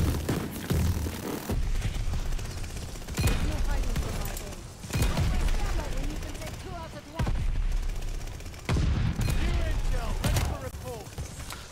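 Gunfire in the shooter game Vanguard during a sniping session, heard as repeated loud broadband volleys and rapid bursts that come in waves, with short dips between them.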